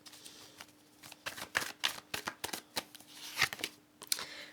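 Tarot cards being shuffled up close, a quiet series of quick riffling flutters and soft slaps in irregular bursts, no talking.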